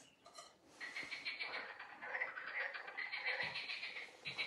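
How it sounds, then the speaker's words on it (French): Frogs croak and trill in a steady, dense chorus, faint and somewhat distant, carrying on without a break. "Ah, vous entendez nos grenouilles? Elles chantent, hein?"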